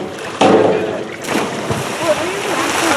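A person dives into water during a biggest-splash contest, landing with one loud, sudden splash followed by churning and sloshing, while other people talk over it.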